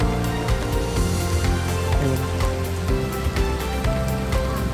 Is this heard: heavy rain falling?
yes